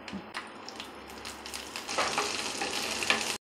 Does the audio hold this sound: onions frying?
yes